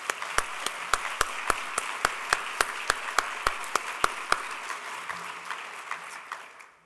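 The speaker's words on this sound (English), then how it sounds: "if we could all just give them a round of applause for what they do" Audience applause at a day-three symposium session, a dense wash of clapping from many hands with a handful of sharper, louder claps ringing out at a steady rhythm before the whole crowd gradually fades.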